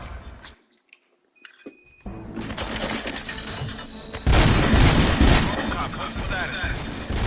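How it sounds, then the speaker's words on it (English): Gunfire erupts in the Robocop Rogue City video game: sharp shots after a brief silence, then a dense, loud stretch of rapid firing and booming impacts, with a tonal alarm-like element early on. "Gunshots? What's going on?"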